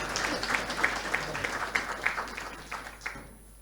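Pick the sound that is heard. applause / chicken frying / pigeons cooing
applause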